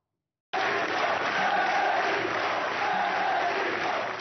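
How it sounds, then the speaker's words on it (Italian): At a funeral, a large crowd applauds steadily and shouts a name together, a loud, sustained wash of clapping and voices that starts abruptly and carries on without a break. "Applaudono e urlano il suo nome."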